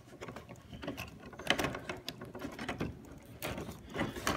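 Foam-tired wheels are tightened onto a Serpent Project 4x RC car in the cold outdoors, a close, quiet run of ratcheting clicks and small metallic mechanism noises, irregular and continuous, with no talk.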